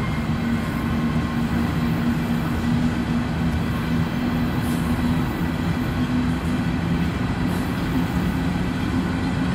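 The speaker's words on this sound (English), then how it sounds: "some of those new hoppers glide on the rails" A freight train of brand-new hopper cars rolls past on the rails in Windsor, a steady, loud rumble and rattle of wheels lasting throughout at close range, with no talk over it.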